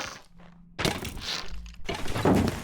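In the Minecraft RLCraft modpack, an arrow strikes the player with a dull thunk, followed by a couple of sharper impact knocks and crackles.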